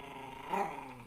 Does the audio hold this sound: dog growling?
yes